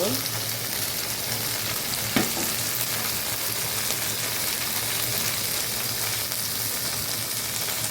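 Okra frying in oil for a Bengali bhaji, a steady dense sizzle filling the whole stretch at close range, with one brief utensil knock partway through and no talking.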